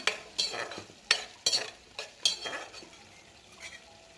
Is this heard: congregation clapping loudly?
no